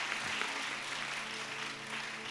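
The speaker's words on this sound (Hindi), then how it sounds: "ताली बजा के प्रभु को धन्यवाद देंगे" Church congregation clapping together to thank the Lord during a fasting prayer service, a dense, steady burst of applause lasting a couple of seconds, close and fairly loud.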